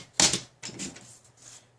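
Card paper being cut to size for a card-in-a-box craft, two short crisp bursts of trimming or slicing close by, the first sharper and louder, followed by fainter scraping.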